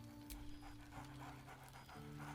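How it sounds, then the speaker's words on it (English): Dog in a video game, panting steadily with a short bark-like burst near the start, fairly close over a constant low game-music tone. "Scratch barks merrily."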